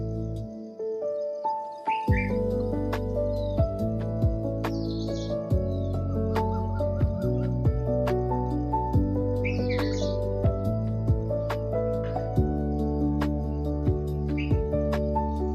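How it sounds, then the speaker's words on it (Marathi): Small birds chirp and tweet in short bursts at dawn, some fairly close and others distant, over a sustained low hum from something nearby. "मी सकाळच्या वेळेला रेकॉर्डिंग करते म्हणून पक्ष्यांचा आवाज येतोय"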